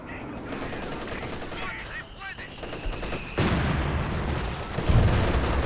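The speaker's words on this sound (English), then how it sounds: "There's howitzer fire coming through" Howitzer artillery fire rumbles through a Company of Heroes 2 battle, with heavy booms and rattling gunfire layered over dense, continuous combat noise that swells sharply partway through.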